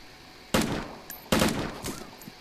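Gunfire in the video game DayZ: two sharp, loud shots about three-quarters of a second apart, each trailing off in a short echoing tail, with a fainter thump after them.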